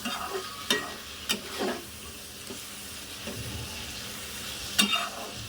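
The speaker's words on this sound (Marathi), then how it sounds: "गाजर आणि बीन्स घातलेले आहेत. छानसे परतून घ्यायचं" Carrots and beans sauté for pulao in a hot pan, giving a steady low sizzle broken by a few sharp scrapes and clinks of a spatula stirring, close and moderately quiet.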